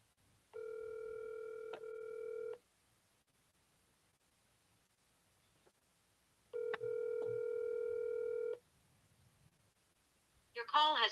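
Telephone call ringing out before going to voicemail: two long, steady electronic ring tones about four seconds apart, quiet and clear over near silence, with a brief voice at the very end.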